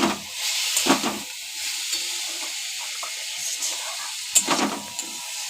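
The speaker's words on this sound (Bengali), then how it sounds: "এই যে এখন আলু ফুলকপি ফ্রাই করা চলছে।" Potato and cauliflower pieces fry in a pan with a steady hiss of oil, broken by a few louder scraping stirs, and no talk.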